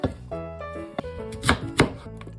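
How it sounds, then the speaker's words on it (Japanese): Knife chopping vegetables and other ingredients for Japanese pork miso soup (tonjiru), a string of sharp cuts against a cutting board over music, close and fairly loud, with no talking. "具材はたくさん入っていた方が美味しいのでどんどん切っていきます"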